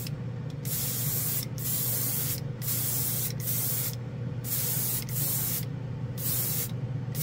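A Master G79 airbrush sprays acrylic primer onto a car in steady bursts of loud, broadband hiss, about eight passes separated by brief pauses, with no talk.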